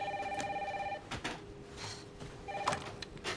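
Telephone in a house in the Resident Evil Requiem video game rings twice, a bright electronic trill in two bursts separated by a gap, over faint background ambience and brief rustling.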